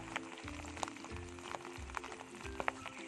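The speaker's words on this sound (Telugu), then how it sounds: "ఇప్పుడు దీన్ని నూనెలో వేసి వేపుతానమాట" Washed, dried moringa leaves frying in oil, a quiet crackling sizzle with soft irregular pops and light stirring, no talking.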